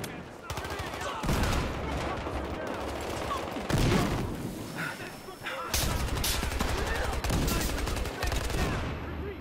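Tommy gun fire in the Battlefield Hardline multiplayer game, rapid automatic bursts rattling loudly and repeatedly with brief pauses between strings of shots, with a voice talking faintly underneath.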